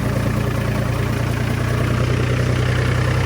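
A tractor engine runs steadily in low gear at about 1500 rpm, a loud, close, continuous rumble with an even drone and no voices.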